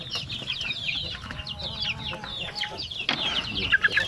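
Native chickens cluck and chirp in quick, overlapping bursts while being fed on a farm, fairly close and steady throughout, with a few louder calls near the end.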